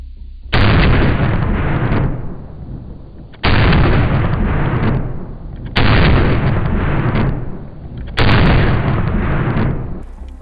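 Smith & Wesson M&P 2.0 pistol in 10mm Auto without a compensator, fired four times at roughly two-second intervals, each shot a loud sharp blast followed by a long decaying echo.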